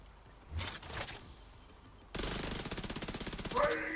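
Automatic weapon fire in a video game, a rapid rattling burst of even, closely spaced shots that starts suddenly after a quieter stretch and runs loud for about two seconds.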